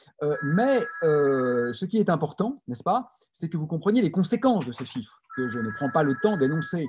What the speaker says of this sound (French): Excusez-moi pour le téléphone qui sonne chez moi.